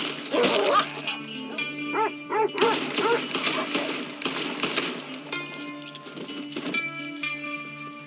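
A dog in the Red Dead Redemption 2 game barks and yips repeatedly in quick bursts, fairly close and loud, with other game sounds in the background.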